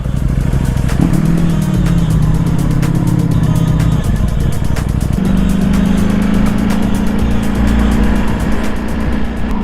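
A Ducati V4 motorcycle engine with a quiet stock exhaust idles and revs in a steady, fairly muted drone, with a couple of shifts in pitch and ongoing mechanical clatter.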